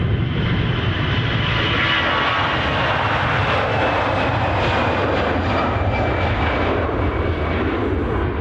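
A Boeing 737 MAX 8 jet at Edinburgh airport gives a steady, loud, broadband engine roar that holds for several seconds with no break.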